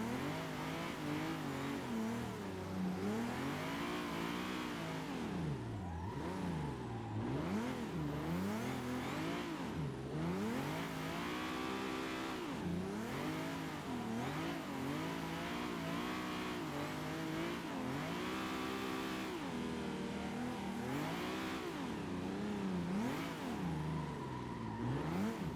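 A car engine in the Assetto Corsa racing sim revving hard while drifting, repeatedly rising and falling in pitch with bursts of tire squeal, continuous and fairly steady in level, with no talking.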